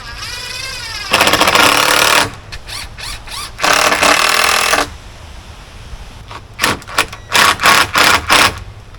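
A power drill drives screws into timber greenhouse trusses in loud, close whirring bursts: two long runs, then a string of short quick pulses as screws seat.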